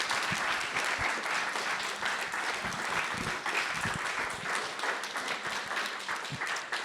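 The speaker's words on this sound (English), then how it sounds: "Give her applause." Sustained clapping from an audience at a clean water community forum, dense and even with a few sharper individual claps standing out, continuing for several seconds without talk.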